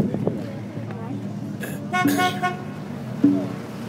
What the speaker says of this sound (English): Honks of support, recognition.